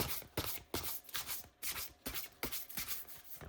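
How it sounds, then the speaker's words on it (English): Close, crisp riffling and sliding of an oracle card deck being shuffled by hand, coming in repeated bursts about every half second with short pauses between, with no talking. "I feel like this one, the shuffling this way is a little bit messier though."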